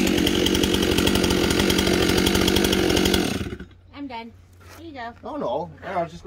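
A Stihl 661 chainsaw runs loud and steady for about three seconds, then cuts out abruptly, and people talk afterward.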